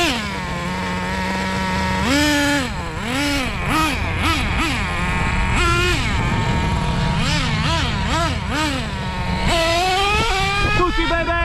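A restored classic Traxxas T-Maxx nitro RC car engine with a 3.3 engine screams hard, revving up and down in repeated rising and falling sweeps, loud and continuous and close by, with a voice talking over it.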